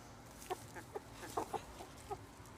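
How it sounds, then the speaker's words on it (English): Scattered clucks from agitated chickens come in short separate bursts, fairly close and clear, with quieter background noise between them. "crazy chickens."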